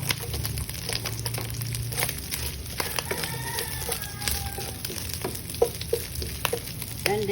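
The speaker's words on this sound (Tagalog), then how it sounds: "So we're gonna saute the garlic." Garlic sautéing in a little oil in a pan with already cooked ground pork, for ginisang papaya, giving a steady soft sizzle with occasional stirring scrapes and clinks throughout.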